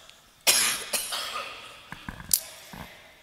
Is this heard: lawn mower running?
no